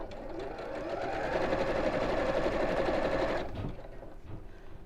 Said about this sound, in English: So I'll just keep adding these as I sew.